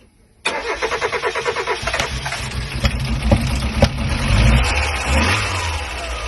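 A Mk1 Mazda MX-5 engine, unstarted for ten years, cranks with a rapid rhythmic chug, catches, and settles into a steady running idle with a few revs, close and loud.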